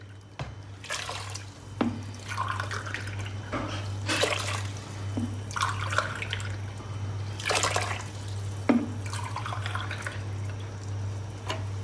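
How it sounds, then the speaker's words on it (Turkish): Water poured into a pot of green lentils for soup, heard as intermittent splashing pours and drips over a steady low hum, with no talking. "Ondan sonra çorbanın kendisi için altı su bardağı su daha vereceğiz"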